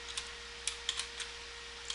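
A password is typed on a computer keyboard: a short, quiet run of scattered key clicks at an uneven pace, with a faint steady hum beneath.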